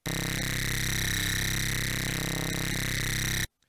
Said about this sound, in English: It just sounds like a more distorted sine wave.